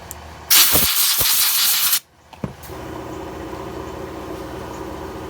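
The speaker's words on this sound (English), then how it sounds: "Just lubing it down, spraying it off." An aerosol can sprays lubricant onto Stihl 020T (MS200T) chainsaw parts during a teardown, one loud, close hiss lasting about a second and a half, then a few light clicks and handling noises.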